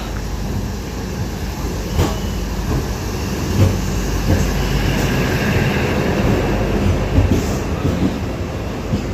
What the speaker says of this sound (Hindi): meanwhile DEMU train is approaching